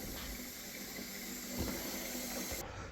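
Water runs steadily from a Moen Arbor Motionsense kitchen faucet into a sink, a close, even rushing hiss lasting the whole moment.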